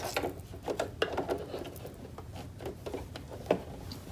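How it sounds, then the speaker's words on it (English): A sewing machine stitches down a quilted jacket sandwiched between two pieces of denim, giving a steady run of light mechanical ticks and clatter at close range, with no voices. "I'm just going to sew all the way down, making sure that my jacket is sandwiched in between"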